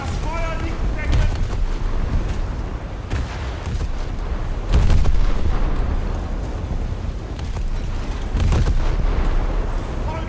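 Warship guns in a naval combat game fire in heavy booming salvos, with several loud blasts and rumbling reports spread across the stretch over a continuous background din, and voices talk throughout.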